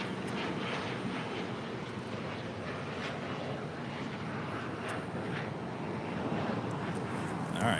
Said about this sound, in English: Nippon Cargo Airlines coming in from Tokyo to Rita.